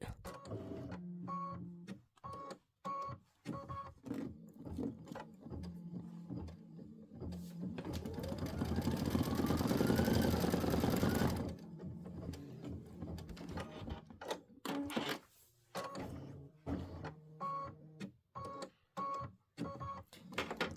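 An Aveneer embroidery machine with a 6x10 hoop stitches out OESD Boo Manor tiles, giving a rapid mechanical chatter of needle strokes in bursts, with a longer, denser whirring stretch midway and brief pauses between runs.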